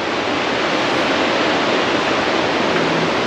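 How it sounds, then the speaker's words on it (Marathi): A mountain river flows beneath a glacier on the Baltal route of the Amarnath Yatra, making a loud, steady, close rushing roar of water with no break. "पाण्याच्या वरती एक ग्लेशियर बर्फाने पूर्ण हे झालेलं आहे आणि खालून पाणी वाहतं"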